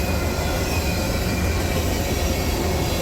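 CSX manifest freight train from Columbus, Ohio to Selkirk, New York passing on the New York Central line, a loud continuous roar of rolling wagons with faint wheel squeal, close by.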